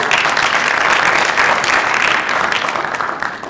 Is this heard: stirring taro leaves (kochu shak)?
no